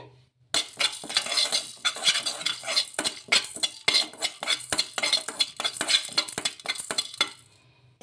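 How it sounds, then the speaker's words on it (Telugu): Cumin seeds and black peppercorns are dry-roasted and stirred in a pan, with a utensil scraping and clinking steadily against the metal over a faint sizzle, close by and with no talking. "ఒక డాయిలోకి కొంచెం జీలకర్ర అలాగే కొన్ని మిరియాలు అయితే వేసుకొని వేయించుకుందాము"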